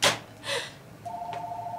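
A telephone starts a steady electronic ring tone after two brief rustling sounds, close and fairly quiet, with no voices.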